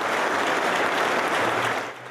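Crowd applauding after prayer at a vigil in Mexico, a dense sustained patter of many hands that holds steady and then eases slightly toward the end.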